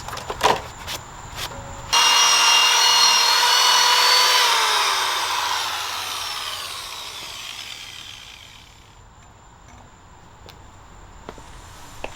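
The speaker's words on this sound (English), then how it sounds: "I got this Mother's power cone" Mothers power cone spinning on a drill while polishing wheels, a loud, steady high whine that starts abruptly, holds for several seconds, then gradually drops in pitch and fades as it slows.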